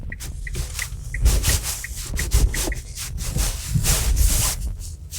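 A 2016 Nissan Leaf S electric car crosses rails, its suspension giving dull rumbling thumps and rubbing road noise in uneven bursts, heard from inside the quiet cabin with no talk.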